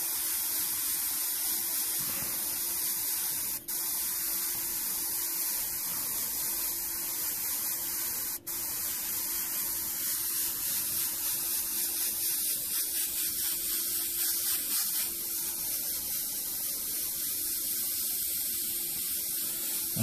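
Airbrush hissing steadily as paint is sprayed over a larger area of a monotone portrait, a continuous close spray lasting throughout with no talk and only a couple of tiny breaks.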